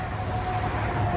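A Hyundai Genesis 4.6L or 5.0L V8 idles quietly, a low steady rumble with a faint hum, close and unbroken, no one talking.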